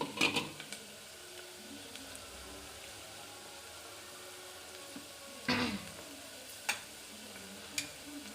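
Ginger-garlic paste fries quietly in a pan, a soft low sizzle marked by a few scattered scrapes and clinks of a stirring spoon against the metal.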